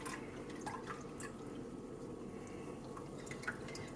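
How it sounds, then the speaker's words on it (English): Hot excess cooking oil from frying onions for Nigerian fried rice is poured from one pot into another, a soft steady trickling and dripping close by with light clinks, no talk. "I'm now removing the excess oil from the pot and I'm pouring it into another pot"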